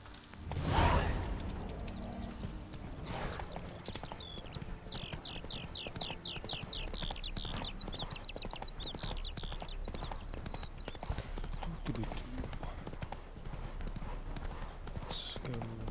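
Roach the horse gallops in The Witcher 3, with steady rapid hoofbeats running throughout, preceded by a louder swish or thump near the start.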